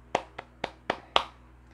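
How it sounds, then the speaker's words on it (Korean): Five sharp hand claps, sparse and uneven, close and fairly loud with short gaps between them and nothing else behind them. "박수"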